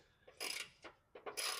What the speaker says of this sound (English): all I'm doing is taking my socket with my ratchet